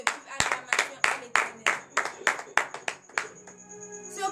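A church congregation at morning prayer claps in a slow, regular unison beat, about a dozen sharp ringing claps in a reverberant room, then the rhythm breaks off as a sustained tone lingers behind.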